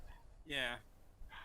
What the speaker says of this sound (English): I'm sorry if you hear the dog in the background barking.